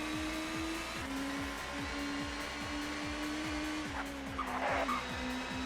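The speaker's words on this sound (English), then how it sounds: "The car just getting a little bit squirrely over the curbs." A touring car in the ToCA Touring Car Championship game at Donington GP revs in a rapid, repeating engine whine while its tires skid and squeal over curbs, the sound staying steady and moderately loud.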